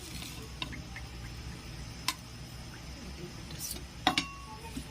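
Oil pouring into a heated kadai for Bengali aam tel: a faint, soft liquid trickle in a quiet kitchen, punctuated by a few light metallic clinks of utensils against the pan.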